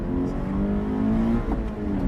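A 2013 Subaru BRZ Limited's engine revs hard on a track run, a close, continuous climbing whine with a brief squeal near the end.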